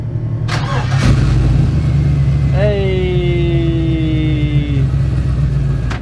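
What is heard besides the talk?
old barn find car engine starting and revving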